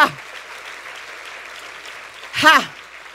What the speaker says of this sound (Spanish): Dale fuerte ese aplauso a tu Padre